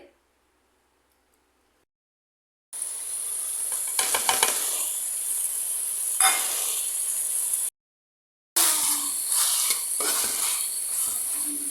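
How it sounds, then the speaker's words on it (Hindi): A spiced masala fries in a hot kadhai with a steady, bright sizzle and hiss, broken by two short silent gaps. "अब अच्छे तरीके से इसको फ्राई कर लेंगे"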